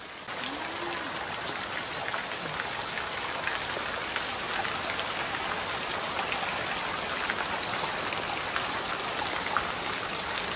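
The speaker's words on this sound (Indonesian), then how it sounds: "Oh, kapegat hujan di dia" Heavy rain pours steadily over a village, a dense, even hiss of drops on surfaces close around, loud and unbroken throughout.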